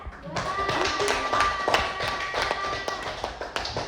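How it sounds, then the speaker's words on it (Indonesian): Classroom applause for a student, a light scattered patter of claps from a group of children, with voices chattering underneath. "Tepuk tangan untuk teman kita"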